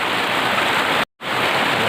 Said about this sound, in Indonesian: Kehujanan di hutan hujan Rainforest Taman Nasional Bukit Barisan Selatan.